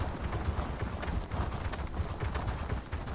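Horse hooves clip-clop in a steady, even rhythm as a rider travels in The Elder Scrolls Online, moderately loud with no voices over it.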